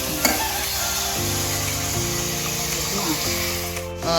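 Chopped tomatoes fry in a pan with a continuous sizzling hiss and some stirring, close and moderately loud with no talk over it.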